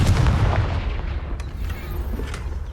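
The Confringo explosive spell in Hogwarts Legacy erupts as a loud, heavy boom with a rumbling blast that decays over the short span.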